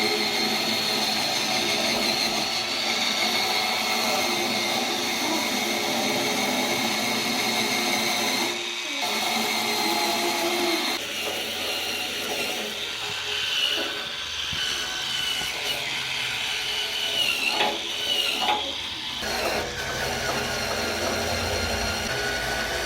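An Agaro electric spin scrubber scrubs a kitchen sink, giving a steady, loud motorized whir with scraping brush noise that shifts as it is moved around, briefly dipping midway.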